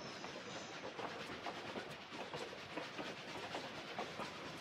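Trains in a Tomb Raider custom level rumble with a steady rhythmic clickety-clack, a continuous mechanical rolling with faint hissing, heard alone with no talking.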